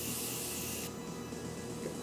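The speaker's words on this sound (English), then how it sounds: "I'm gonna mist my face with some setting spray." Makeup setting spray misted onto a face, a soft close hiss of fine spray that stops partway through, leaving quiet room noise.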